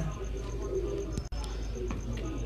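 Pigeons on a rooftop, several soft low coos repeating close by in a rhythmic pattern, with a faint thin tone and brief clicks in the background.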